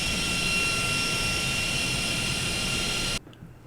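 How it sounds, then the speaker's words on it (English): Turbine-driven draft fans in a coal-fired steamship boiler room give off a loud, steady broadband roar with a high whine on top, then cut off abruptly near the end; no talking. "The turbine-driven draft fans produce a distinctive whine that can be heard in nearby stairwells."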